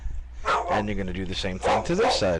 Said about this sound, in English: And that's my dog saying hello.